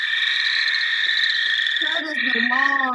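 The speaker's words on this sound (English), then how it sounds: "Toad, yeah, long and constant." A toad in a vernal pool gives a long, constant high-pitched trill that runs steadily throughout. Partway through, a person starts speaking over it.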